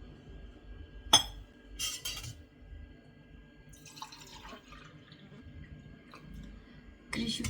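A drinking glass is set down with a sharp clink on a kitchen counter, followed by faint clinks, brief rustles and small clattering sounds in a quiet room.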